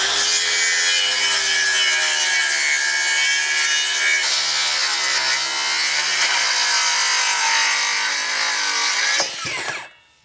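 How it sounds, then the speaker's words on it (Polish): A hand saw cuts through a wooden board for a raised garden bed, the steady rasping strokes continuing close and loud for about nine seconds before stopping abruptly. "ustawiamy sobie piłę na, naszym, na naszej kresce, no i, i co? I tniemy, patrzcie jak to ładnie idzie."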